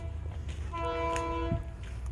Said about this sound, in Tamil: ஏதோ ட்ரெயின் வரப்போகுது,